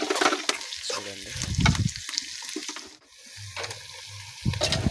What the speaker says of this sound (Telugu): ఇక్కడ పెనం హీట్ అయ్యాక ఇక్కడైతే ఆయిల్ వేసుకున్నాం. ఉల్లిపాయలు, పచ్చిమిర్చి వేసుకొని కలుపుకున్నాం ఫ్రెండ్స్.